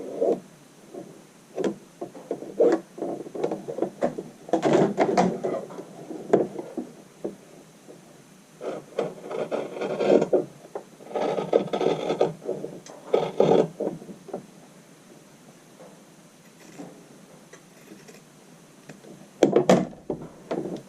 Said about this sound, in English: We're just trimming off a little excess and leaving about that 3/16.